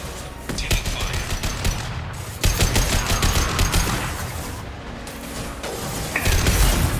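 Heavy rapid gunfire in the video game Mass Effect Legendary Edition, dense automatic bursts and fusillades with sharp impacts, broken by brief pauses, loud and close throughout.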